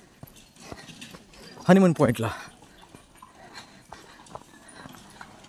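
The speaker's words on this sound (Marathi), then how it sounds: "इथे घोड्यांची बरीच वर्दळ आहे. घोडे येत आहेत, जात आहेत" Horses clip-clop along a busy path at the Matheran hill station, their hooves tapping in a loose, uneven rhythm under ongoing talk, with one brief louder burst of voice.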